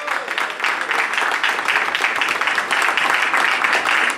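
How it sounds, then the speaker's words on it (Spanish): A church congregation claps together during a Spanish-language worship service, producing a dense, steady wash of applause that holds at an even level for several seconds. "¿Cuántos le dan palmas día para Cristo?"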